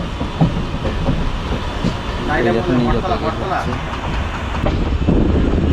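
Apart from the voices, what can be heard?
Humsafar Express train arriving at New Jalpaiguri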